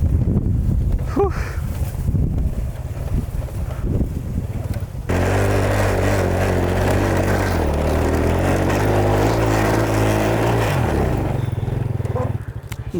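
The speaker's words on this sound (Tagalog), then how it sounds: "Hindi kaya ng power talaga ng motor." A motorcycle engine labors and drones with a steady strained tone climbing a steep mountain trail, wind buffeting the microphone before the engine note rises and holds.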